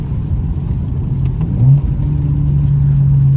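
A BMW 435i fitted with new parts drones steadily from inside the car on a drive, its low engine note stepping up in pitch partway through as it revs, with a few faint crackles above the rumble and no talking.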